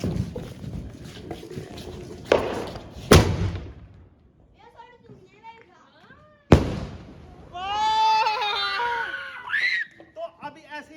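Diwali night sky shot fireworks launch with sharp booming cracks, a couple near the start and one louder bang midway, followed by excited shouting and children's voices talking and squealing nearby.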